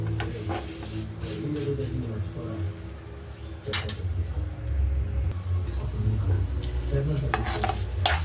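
Vermicelli frying in ghee until reddish: a steady close sizzle with repeated scraping stir strokes, continuous throughout, with a few sharper clinks of the utensil against the pan.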